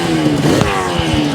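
A Yamaha TZR250 two-stroke motorcycle revs close by on a Tokyo street, its engine note buzzing and climbing, with a couple of short low thumps partway through.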